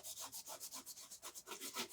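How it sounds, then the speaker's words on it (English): Softened paste being scraped off a surface with light pressure, a quiet, rapid back-and-forth rasping scrape repeating steadily and close. "I'm going to just start scraping this off"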